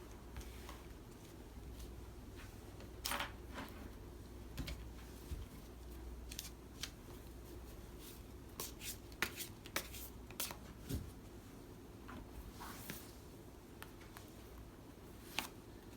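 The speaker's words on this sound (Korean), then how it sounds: "다가오는 봄에 이런 긍정적인 여러분들의 에너지를 더 끌어올릴 수 있을 만한 설레는 일들이 무엇인지 대해서 카드를 뽑아보도록 하겠습니다" Tarot cards are shuffled and drawn by hand, producing soft, faint papery rustling broken by scattered crisp snaps and flicks at an irregular pace. The sound is quiet and close, with no voices.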